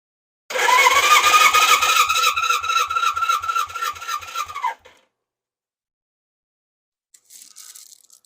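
A 1977 Suzuki GS550 motorcycle engine revs up with the throttle held open, a loud rising whine sustained for about four seconds before cutting off, followed by silence and a faint later sound.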